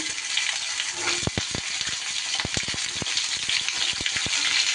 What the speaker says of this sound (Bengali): তেল গরম হলে আমি এই পটলগুলো এবার ভেজে নেব।